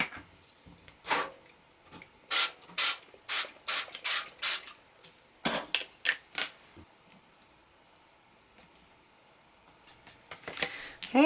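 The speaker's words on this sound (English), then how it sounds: "I'm going to see if I can get better aim spraying using the spray adhesive" An aerosol can of spray adhesive gives a quick run of short, sharp hissing bursts, then a pause and a few more sprays, close and fairly loud.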